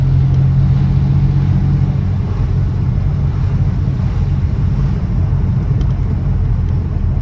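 A 1965 Jaguar MKII 3.4 with manual overdrive and a Moss gearbox pulls away in its whiny first gear, a loud, steady engine drone close by, with no voices.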